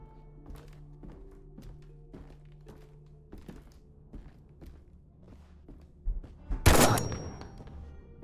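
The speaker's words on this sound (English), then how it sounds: "Oh, the rifle went off." A rifle fires once in the horror game Stray Souls, a single loud, sharp burst after a stretch of soft, repeated thumps and footsteps.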